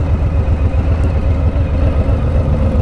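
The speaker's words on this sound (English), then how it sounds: "so still got the bike running. So even with the loud exhaust, even with the wind" Motorcycle engine with a loud exhaust running steadily at high speed, a continuous low rumble and whir mixed with wind noise throughout, close and loud.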